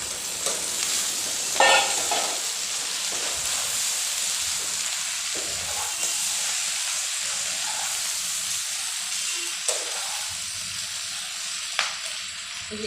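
Fried pakoras dropped into a hot pan with Kashmiri chilli powder and stirred, giving a steady close sizzle with occasional scraping and clinks of the spatula across the pan.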